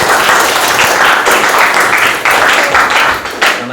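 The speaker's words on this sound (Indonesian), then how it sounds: "Tepuk tangan dulu kelompok 3 dulu." Students in a classroom give a group a sustained round of applause, with loud, dense clapping that dips briefly and then resumes.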